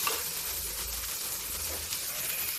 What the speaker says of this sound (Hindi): हम डाल देते हैं इसमें लहसुन और हरा मिर्च, साथ में थोड़ा प्याज। हल्का गुलाबी भूनेंगे